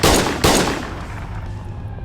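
Two loud, close gunshots from the video game Schedule 1 fire in quick succession, each with a sharp blast that fades into a ringing decay, with no voices.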